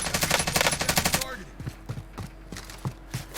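Rapid automatic gunfire from a Call of Duty-style multiplayer match, a dense loud burst of shots lasting about a second, followed by several spaced single shots further off.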